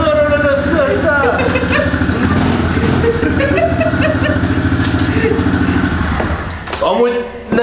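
A motorcycle left unused in storage for about six weeks runs loud and close with a rough, pulsing idle throughout, then the engine note dips and rises briefly near the end.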